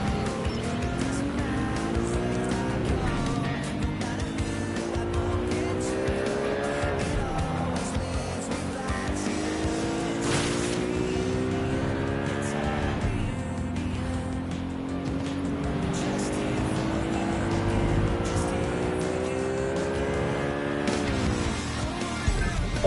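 A car driven in the video game Watch Dogs: Legion, its engine climbing in pitch and dropping back through a series of gear shifts, a loud continuous drone with no voices.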